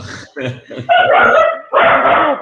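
A dog barks in a few quick, loud bursts close by, with a brief human voice mixed in.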